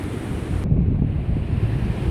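Strong gusty wind roaring outdoors in the aftermath of a windstorm in Ogden, Utah, a steady broadband rush buffeting the microphone throughout, with no voices.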